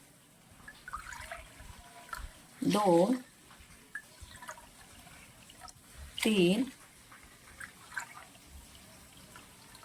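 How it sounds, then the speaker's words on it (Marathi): Cupfuls of water are poured over sabudana (sago) in a kitchen, two short, close splashing pours several seconds apart, with someone speaking quietly between them. "दोन कप शाबू तर चार कप पाणी ओतायचं आहे"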